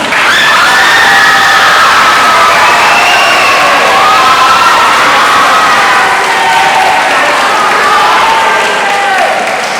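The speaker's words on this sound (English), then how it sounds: "Okay, let's give them a round of applause" Loud, continuous crowd noise fills a middle school awards day as award winners are honored: cheering, whoops and children's shouts over steady applause, sustained throughout at close range.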